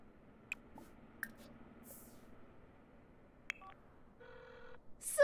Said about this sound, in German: Wieso geht sie jetzt wieder nach oben, um zu telefonieren?